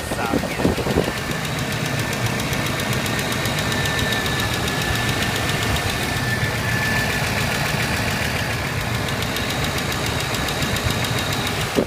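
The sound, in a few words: 1992 Buick Roadmaster 5.7 engine chugging and ticking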